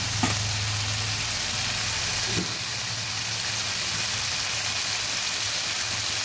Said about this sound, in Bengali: একটু একটু মশলা দিয়ে একটু জল দিয়ে আমি মশলাটাকে ভালোভাবে ভেজে নিচ্ছি।